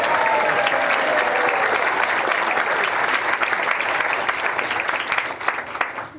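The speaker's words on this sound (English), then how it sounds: "Now you can clap for the officers" An audience at a planetarium conference awards session applauds the newly named officers, steady full applause throughout that thins slightly near the end.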